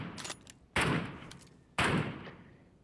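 Sniper rifle shots ring out in PUBG Mobile on the Erangel map, three sharp cracks about a second apart, the first quieter and the next two loud, each trailing off in a short echoing decay.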